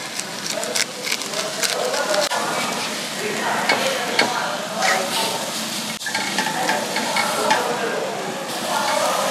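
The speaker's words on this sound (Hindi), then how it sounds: "बड़ा जबरदस्त आपके सामने कुक कर रहे हैं, पत्थर बहुत ज्यादा गर्म है" Steak coated in mixed masala cooks on a very hot stone at a Jeddah steak house, giving a loud, dense, continuous sizzle with crackling spits and occasional scrapes, voices faintly beneath.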